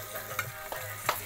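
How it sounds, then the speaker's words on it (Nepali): Potatoes fry in a pan for a cauliflower curry, with a faint, low sizzle and a few soft stirring clicks over a little more than a second. "आलु भुट्दै हुनुहुन्छ यहाँनिर काउलीको लागि"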